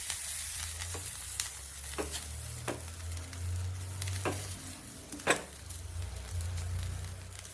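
Grated coconut with about ten small shallots fries and sizzles in a pan for Kanyakumari theeyal, a steady close crackle with occasional scraping stirs and soft clinks over a low background hum.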